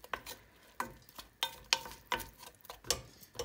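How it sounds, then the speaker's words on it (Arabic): Onion and meat are stirred in a tagine, with about ten sharp scraping strokes at an irregular, steady rhythm, close and distinct, and a soft sizzle beneath. "ودابا غادي نزيدو البصله على اللحيمه ديالنا، وغادي نحركو هادشي مزيان"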